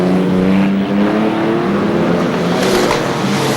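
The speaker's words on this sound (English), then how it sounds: "These big engined hot rods, testing out the now somewhat slippery Ipswich circuit." Big-engined hot rods racing on the slippery Ipswich circuit, a loud sustained engine roar with steady harmonic drone, close and continuous.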